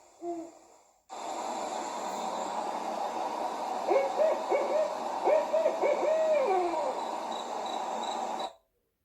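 An owl hoots in the woods, a series of clear, repeated hoots over a steady background hiss, with a short breathy sound before the hooting begins.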